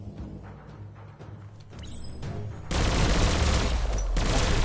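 Sustained gunfire from the video game Biomutant, a loud dense fusillade of rapid shots that swells into a heavy continuous barrage with booming impacts, with no voices over it.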